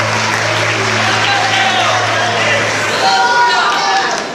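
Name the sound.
applause for Jesus in church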